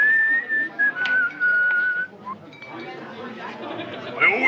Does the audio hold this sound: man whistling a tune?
yes